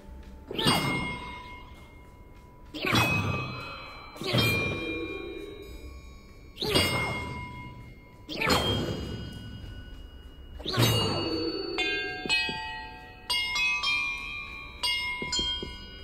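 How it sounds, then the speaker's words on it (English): Bells struck one at a time in Hogwarts Legacy, about six clear ringing clangs spaced a couple of seconds apart, each with a long metallic ring, then a quicker run of lighter chimes near the end. "Perhaps the map contains clues about the order I'm supposed to ring the bells in."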